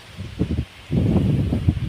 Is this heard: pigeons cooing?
no